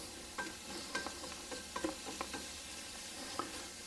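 Flour cooking in a pot as the base for a creamy chicken noodle soup, giving a soft, steady sizzle broken by a few light stirring scrapes and taps, fairly faint and close.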